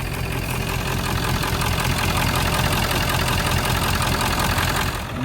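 A Ford 6.7 Powerstroke diesel truck engine idles steadily and loudly up close, a continuous low rumble with a broad mechanical clatter running unbroken throughout.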